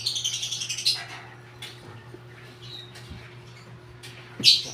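A small bird with splay legs wearing a leg brace chirps close by in a quick run of sharp, high tweets, then goes quiet before one more bright chirp near the end.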